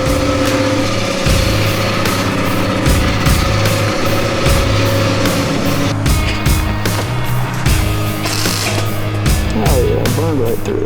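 Welding on rusty sheet metal of a 1948 GMC pickup truck gives a continuous crackling, buzzing arc with steady tones and some irregular pops, loud and close for the whole stretch.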